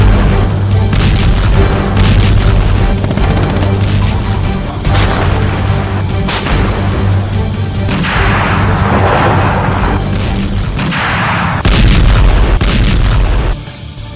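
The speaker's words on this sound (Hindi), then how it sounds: "रूसी सेना ने यूक्रेन के बम और बारूद से भरे गोदामों को धमाके के साथ उड़ा दिया है।" Repeated heavy booms from ammunition depots filled with bombs and explosives being blown up in the Russia-Ukraine war, loud and continuous with deep rumbling blasts following one another over a dense roar.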